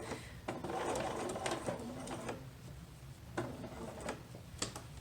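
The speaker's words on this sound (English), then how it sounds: "Oh, such a habit to backstitch, but I don't need to backstitch on this." A sewing machine stitches a baby jumper in bursts, its needle whirring and ticking rhythmically, with pauses and small clicks between runs, close and fairly quiet.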